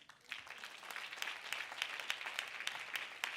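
A church congregation applauding and cheering, steady, moderately distant clapping with scattered sharper claps building in density, no voices over it.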